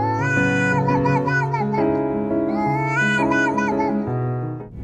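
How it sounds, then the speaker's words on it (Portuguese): A cartoonish cat character meows in a rapid, pitched, sing-song run of wavering calls, loud and close, in two long phrases with a tonal accompaniment beneath. "É o gato Uauauá"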